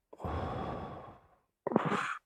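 A person takes a long audible breath, a breathy rush lasting about a second that fades out, followed after a short pause by a sharper, shorter intake or exhale, close and soft.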